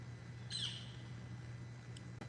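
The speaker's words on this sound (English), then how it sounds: "Ooh, that was a hawk." A hawk calls once from a distance, a brief faint squawk over a steady low hum, followed by a couple of tiny clicks.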